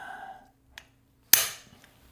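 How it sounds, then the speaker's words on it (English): A small hammer strikes a battery cable crimp tool, giving one light tap and then one sharp, loud metallic hit that rings briefly; the strikes are close and stand alone, with no talk. "find a trusty hammer, doesn't even have to be a big hammer, this is quite a small hammer."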